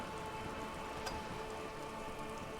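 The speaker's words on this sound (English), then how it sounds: "Nothing like talking to pass a rainy day." Steady rain falling in the video game Disco Elysium, a soft, even hiss of drops on surfaces heard alone at low level without talk.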